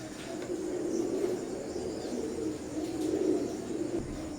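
A baby pair of Oman bloodline teddy pigeons keeps up a soft, continuous cooing murmur close by, steady throughout against a faint background hiss.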